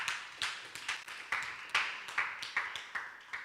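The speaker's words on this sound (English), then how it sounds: "Give a lot of applause to Rogers." Audience applause for a speaker at an AI workshop in Nairobi, heard as steady, rhythmic clapping at a brisk even pace, fairly faint and moderately distant, with no talk over it.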